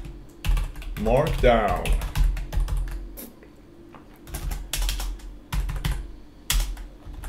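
Quick bursts of clicky keystrokes on a computer keyboard, close and crisp, with short pauses between flurries and a brief spoken word over the typing.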